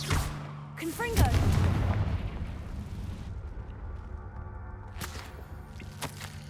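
A Confringo fire spell blast in Hogwarts Legacy bursts out with a sharp crack and heavy rumbling boom, followed by a second burst a few seconds later.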